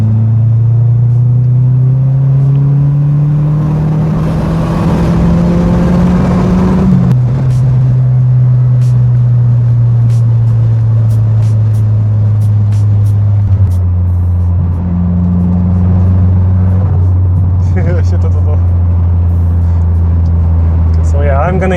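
Opel engine pulling hard under load, a loud sustained drone whose pitch climbs steadily then drops with a gear change and climbs again, running continuously throughout at close range.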